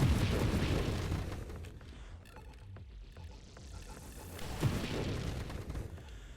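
Explosions burst in the space shooter game Nova Drift, a fairly quiet wash of rumbling blasts with one sharper pop standing out partway through.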